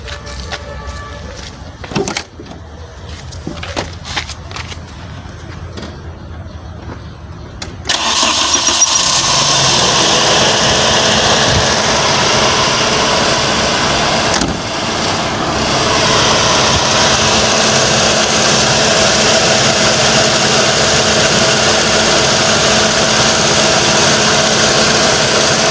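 Car engine cranked using a portable battery jump starter and power bank: quiet handling noises, then at about eight seconds the engine catches and settles into a loud, steady idle that runs to the end.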